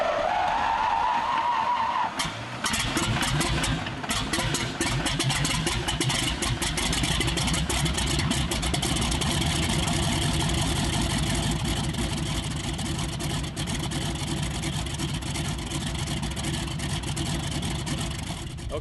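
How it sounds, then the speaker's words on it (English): A Pratt & Whitney 985 nine-cylinder radial airplane engine of 450 horsepower with an internal 10-to-1 blower drones loudly and steadily, a continuous close roar with no talk over it. "the engine is a Pratt & Whitney 985 cubic inches, 9-cylinder, 450 horsepower"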